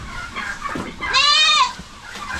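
A goat in a farm pen gives one loud, wavering bleat close by, lasting about half a second, with quieter farmyard noise and faint shuffling before and after it.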